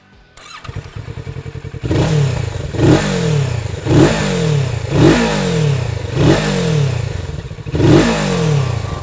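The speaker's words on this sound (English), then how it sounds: "Even as the 649cc engine comes to life, it sings the song of a true blue Kawasaki sports bike" A Kawasaki 649cc parallel-twin sports motorcycle engine starts up, then is blipped in a series of sharp, evenly spaced revs that rise and fall back to idle, loud and close with no talking.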